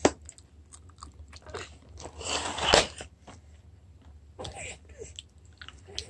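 A two-year-old bites and chews dried persimmon, producing soft crunchy bites and wet chewing sounds, with one louder crunch near the middle, close to the mic in a quiet home.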